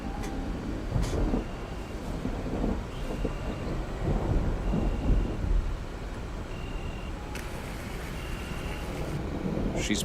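Steady rain and low rolling thunder in an analog horror video game, a constant dense wash with deep rumbles swelling and fading throughout.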